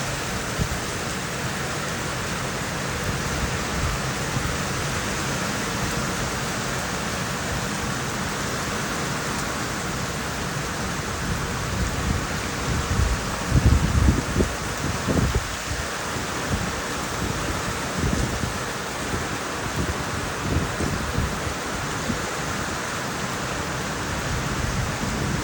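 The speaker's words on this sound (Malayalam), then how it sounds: "നല്ല അടിപൊളിയായിട്ടുള്ള ഹെവി ആയിട്ടുള്ള മഴയായിരുന്നു കേട്ടോ പെയ്തുകൊണ്ടിരുന്നത്" Heavy rain pours steadily in Malawi, a dense continuous hiss of drops on surfaces, with a few louder low rumbles and thuds partway through; no one speaks.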